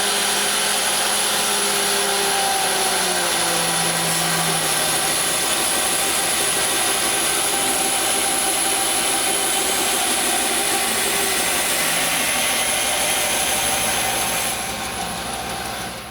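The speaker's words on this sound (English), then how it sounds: "I don't have room, so we're going to use the bandsaw." Bandsaw feeding through a wood blank for a turkey leg napkin holder, a loud, steady broadband whine holding for about fifteen seconds with shifting low tones as the cut progresses, then easing off at the end.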